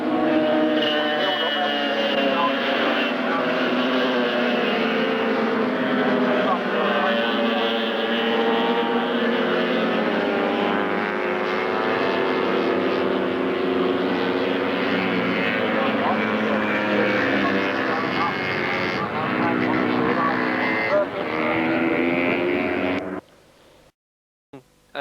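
A Yamaha 250 LC racing motorcycle screams at high revs in a sustained, buzzing two-stroke drone during a race, heard continuously with a commentator talking over it before it cuts off abruptly.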